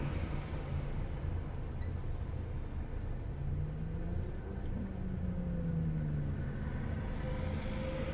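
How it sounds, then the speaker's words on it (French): A Peugeot 106 running on ethanol idles unevenly, a low steady engine rumble with road-like noise, heard close and continuous with no talk. "l'éthanol, le ralenti est pas stable"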